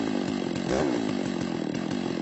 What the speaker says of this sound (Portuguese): A motosserra é checada diariamente durante as viagens.